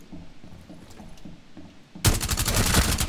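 Gunfire in the Rainbow Six Siege video game on the Outback map, starting as quieter muffled rattling and then erupting into a loud, dense volley of rapid shots for the last second.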